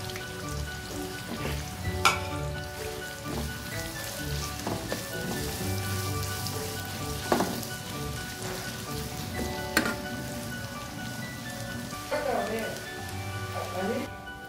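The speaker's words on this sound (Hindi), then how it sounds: "घी हमारा अच्छे से गर्म हो गया है। अब मैं इसमें प्याज डालूंगी।" Two medium onions browning in hot ghee give a steady, dense sizzle throughout, with occasional stirring clinks and scrapes rising above the frying.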